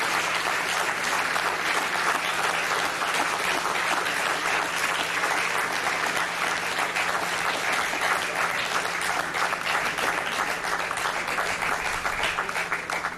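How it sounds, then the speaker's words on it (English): Sustained, dense applause from a large crowd at a rocket launch viewing continues loudly and evenly throughout, with no pauses. "The applause erupted here in Jupiter."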